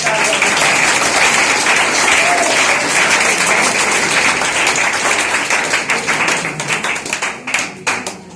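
Loud, dense applause from a gathered audience at a coaching institute event, continuous clapping that holds steady and then thins into scattered individual claps toward the end.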